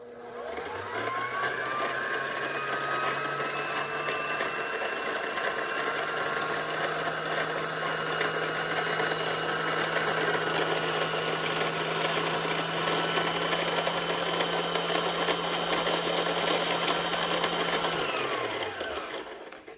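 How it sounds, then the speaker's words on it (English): Kenmore 385.15343 sewing machine winding a bobbin, a steady motor whir that spins up, holds at an even pitch for about fifteen seconds, then winds down, close and alone. "the top is always a little bit less wound on this bobbin winder"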